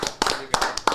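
A few hands clap in a brief, sparse burst of applause from an audience at a company anniversary celebration, with four or five distinct, sharp claps close by.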